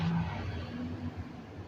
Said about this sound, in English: It's still, wow, it's still idling at 900.